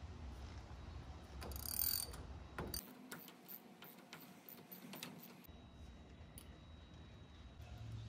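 A hand ratchet with a square drive works a bolt on a HMMWV geared hub, where a single bolt joins the CV half shaft to the hub. Faint clicks and mechanical ticks come through over a quiet background.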